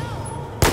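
A sudden loud, close explosion in the Battlefield 4 video game bursts out near the end, following a steady low background rumble.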